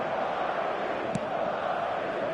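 Stadium crowd on match day in a football video game, a steady dense roar of many voices holding at constant loudness throughout, with one brief faint click in the middle.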